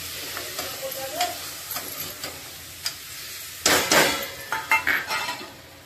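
Goat trotter pieces being stirred into sizzling masala for paya pulao, close frying hiss with a burst of loud sizzle midway, plus clinks and scrapes of a spoon against the pot.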